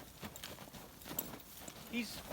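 Horse hooves clip-clop on the ground during a training session. The steps are soft and irregular, with someone talking over them.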